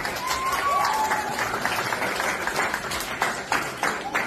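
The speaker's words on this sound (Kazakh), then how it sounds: "Бәрі шапалақ ұрып жатыр." A crowd applauds and claps steadily for several seconds, a dense continuous wash of hand claps with scattered louder claps and a brief whistle-like tone near the start.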